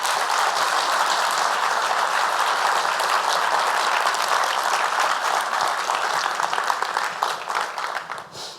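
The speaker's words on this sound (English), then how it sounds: "please join me with a round of applause in welcoming them" An audience at a college-athletics panel forum breaks into sustained, dense applause welcoming the panelists, holding steady for several seconds before gradually thinning out and fading at the end.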